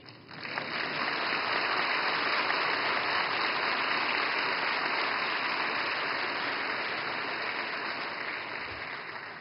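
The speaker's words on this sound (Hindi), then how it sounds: "और मुझे खुशी है कि सबसे ज्यादा तालियां इस बात पर पड़ी" An audience at a Reserve Bank of India event in Mumbai breaks into sustained applause, a dense and steady roar of clapping that holds for about nine seconds with no talk over it.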